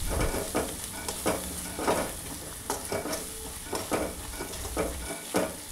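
Bitter gourd stir-fried with salt in a hot pan: steady oil sizzle with repeated scraping strokes of a spatula roughly every half second, close and moderately loud, no talking.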